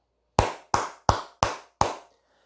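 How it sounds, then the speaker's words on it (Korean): Five sharp, evenly spaced hand claps, close and crisp, each decaying quickly, alone with no talk. "크게 박수 한번 치고 가도록 하겠습니다"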